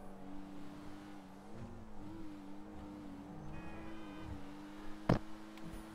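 A car engine in the GTA V video game hums at a fairly steady pitch, quiet and continuous, with slight rises and dips and a sharp click near the end.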